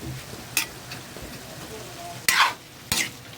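A spoon stirs dinuguan seasoned with pepper and salt in a cooking pot, a few brief scraping strokes over a quiet low simmer, close and moderately loud.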